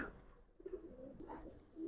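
Giribaz pigeons of an old-lineage breed give soft, low coos that rise and fall, faint and close by in a quiet loft.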